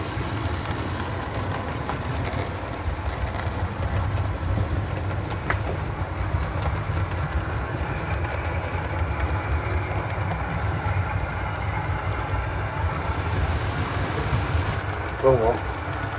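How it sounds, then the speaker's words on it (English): Model trains run with a steady rolling rumble and faint clicking of wheels on track, while people talk nearby. "Oh, look, there's two trains coming together."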